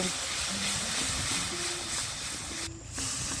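Spice paste of turmeric, chili powder and ground ginger-garlic frying in a pan with tomato for a Bengali fish-bone chochori, giving a steady, close, even hiss that dips briefly once.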